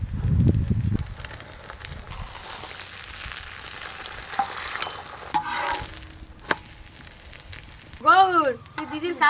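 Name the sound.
lachha paratha frying in a pan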